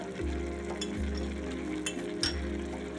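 Curry leaves go into a pan of spiced anchovy (netholi) peera, which sizzles loudly and steadily. Stirring adds occasional soft clinks and thumps from the cookware.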